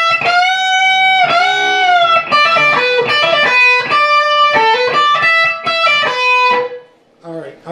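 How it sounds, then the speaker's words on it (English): A distorted electric guitar plays a measure of a song's solo, with sustained, bending lead notes and quick note changes, loud and close, ending in a brief pause before another note. "this fourth measure of the solo sounds like this."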